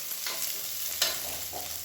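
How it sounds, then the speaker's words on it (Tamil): Garlic and ginger sauté in a pan for millet vegetable kanji, a steady close sizzle with a couple of brief stirring scrapes and no talking. "இது எல்லாமே நல்லா வதங்கட்டும்."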